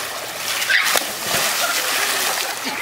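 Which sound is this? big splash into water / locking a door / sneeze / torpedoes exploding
big splash into water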